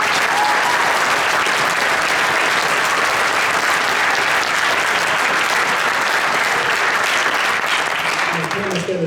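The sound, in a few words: audience applause for the bands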